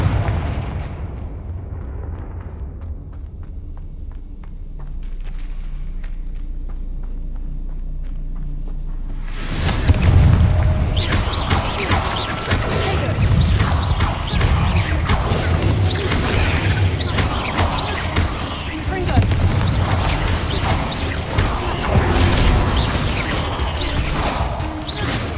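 Confringo explosion spell cast in the video game Hogwarts Legacy, a sudden loud crashing blast after a quiet stretch, followed by sustained rumbling and crackling debris.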